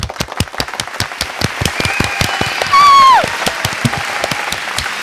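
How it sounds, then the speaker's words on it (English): Small round of applause at the close of a casual podcast, a few distinct hand claps in an uneven rhythm, close and fairly loud, with a brief whistle-like tone partway through. "Let's give her a round of applause."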